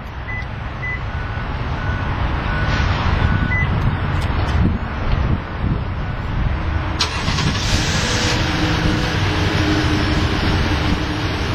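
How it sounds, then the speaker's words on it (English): Short beeps chirp a few times over a running SUV engine rumble during a remote start, then the engine catches and idles steadily, close by. "Simply hit the lock button twice, hold it down for 3 seconds, wait for the engine to beep, and wait for the engine to start."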